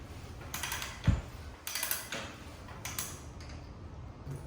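A ratcheting pipe threader cutting threads onto steel pipe, giving several separated clicks and short metallic ratchet strokes at close range, with quiet pauses between strokes and no talk.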